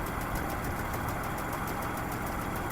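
A Kubota KL-23 mini tractor drives a mower through its power take-off shaft, and its engine runs at a steady, loud drone. The blades add a constant churning vibration throughout.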